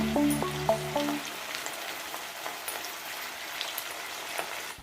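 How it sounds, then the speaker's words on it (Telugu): Tempering spices sizzle and crackle in hot oil in a pan on a stove, with a few utensil clinks at the start, then a steady soft frying hiss with no talk. "చూసారు కదండి, పోపు పెట్టేసాను"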